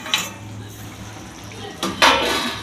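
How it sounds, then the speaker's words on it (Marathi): Metal lid set down on a cooking pan over egg tikka, a sharp clink at the start and a louder clatter near the end over a low background hum, no voices. "इथे मी झाकण ठेवते 5 मिनिटासाठी आणि नंतर काढून बघते."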